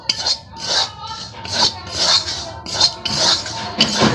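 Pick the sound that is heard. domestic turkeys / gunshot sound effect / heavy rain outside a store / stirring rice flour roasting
stirring rice flour roasting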